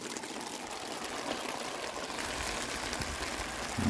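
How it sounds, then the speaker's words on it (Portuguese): A lot of water falling at Chapada dos Veadeiros, a steady dense rushing wash that grows slightly louder toward the end, with no voices. "Muita água caindo agora"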